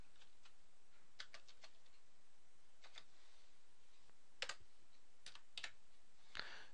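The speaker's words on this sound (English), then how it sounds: "I'm just going to type in the equations that add up the total for Betty." Quiet, scattered clicks of a computer keyboard as equations are typed into an Excel 2010 spreadsheet, with irregular single keystrokes and a few sharper taps, alone in a near-silent room.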